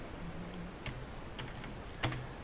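Keys tapped on a computer keyboard while a GCC compile command for a C hello world program is entered, sparse clicks and short bursts spread across the clip, quiet and close with no talking.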